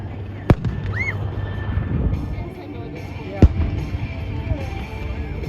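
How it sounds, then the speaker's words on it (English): At an airshow display, 81mm mortar fire gives two sharp, distant booming reports a few seconds apart, while an announcer talks over a steady background hum. "81mm mortars engaging."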